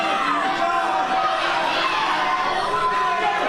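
A crowd at an independent pro wrestling street fight cheers and shouts in a steady, loud roar with high children's voices mixed in, and a commentator talks over the noise throughout.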